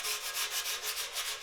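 Sandpaper scrubs paint off a hard-to-reach part of a bicycle frame, making a soft, steady rasp in even back-and-forth strokes, close and fairly quiet.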